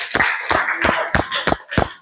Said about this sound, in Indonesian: kita semua kasih aplaus buat semuanya